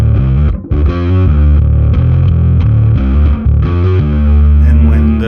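Heavily distorted bass guitar plays the opening riff of a song, loud and close, with chugging sustained low notes and a brief gap near the start.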